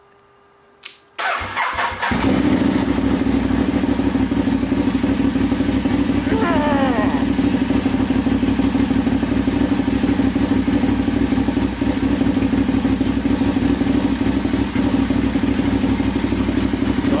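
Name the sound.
Ducati Diavel motorcycle engine running and warming up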